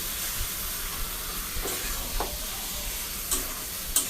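Meat being stirred in a pot for biryani, with a steady sizzling hiss and a few soft scrapes of the spoon against the pot, no talking.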